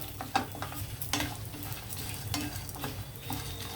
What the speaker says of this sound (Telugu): మిర్చి ఈ విధంగా వేగితే సరిపోతుందండి ఇలాగా దోరగా వేయించాలన్నమాట